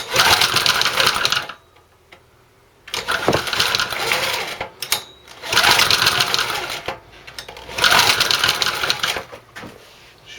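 A small engine on a junk machine sputters and struggles to start, turning over in about four rough, loud bursts separated by short pauses.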